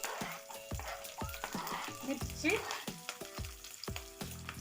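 Tempering spices and onions crackle and sizzle in hot oil in a kadai, with sharp pops and the clack of a spoon stirring at an irregular rhythm. A voice speaks briefly.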